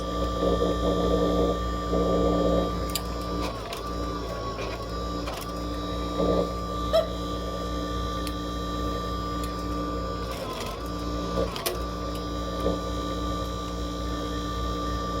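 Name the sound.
spiral coil binding machine operating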